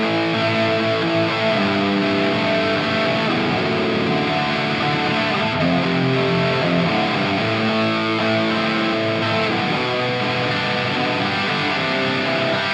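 An electric guitar plays continuous, dense chords and lines through a Fender Tone Master Pro on the '80s Whiskey Hunter' preset, loud and even for the whole stretch with no talking.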